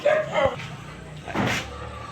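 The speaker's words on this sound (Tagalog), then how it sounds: "Pasensya na kayo sa tahol ng aking mga alagang aso." Several pet dogs barking nearby on a farm, a couple of short barks and yips at the start and another burst near the end, fairly close with no talk.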